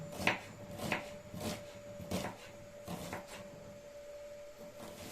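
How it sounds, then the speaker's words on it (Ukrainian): A knife chops onion into pieces on a board, a handful of soft, separate thuds spaced about a second apart, close and quiet, over a steady faint hum with no talking. "І буду сюди нарізати цибульку"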